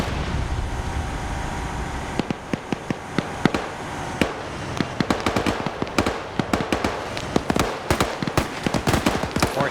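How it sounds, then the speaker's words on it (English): Gunfire in a military video game during a war training operation, a loud, dense string of sharp cracks and bangs that speeds into rapid bursts over a rumbling battlefield background. "Four shots in here"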